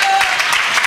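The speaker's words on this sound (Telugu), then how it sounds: "చప్పట్లు కొడుతూ దేవునికి స్తోత్రం చెప్పొచ్చు." A church congregation claps in praise of God, a brief, loud wash of many hands clapping together in a reverberant hall.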